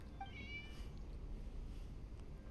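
A cat gives a short, faint meow near the start, a thin rising cry heard against a low, steady background rumble, then only quiet hum for the rest.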